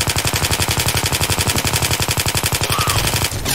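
Rapid, loud, evenly spaced shotgun blasts in Left 4 Dead 2 during a cemetery survival round, firing in a steady burst of many shots that stops near the end.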